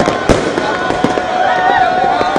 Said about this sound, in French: De gigantesques feux d'artifice ont illuminé le ciel.